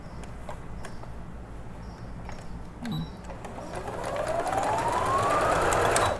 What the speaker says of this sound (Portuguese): Vamos costurar o outro lado, aí já vamos finalizar.